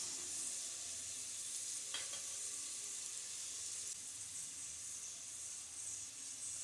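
Paneer pulao ingredients sauté in hot oil with a steady, even sizzle and hiss throughout, plus a faint scrape of stirring near the middle; no voices.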